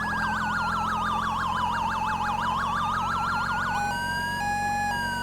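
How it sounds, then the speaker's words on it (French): Police sirens in the video game LSPDFR wail in a fast, warbling cycle, then switch to a steadier two-tone pattern, loud and continuous over a low rumbling hum. "Je sais pas si vous m'entendez avec toutes ces sirènes là"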